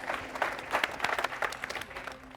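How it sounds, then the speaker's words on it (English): A festival-of-entrepreneurs audience applauding four panelists, brisk uneven clapping from a moderate-sized crowd lasting a couple of seconds and fading slightly at the end. "give these four incredible individuals a massive round of applause"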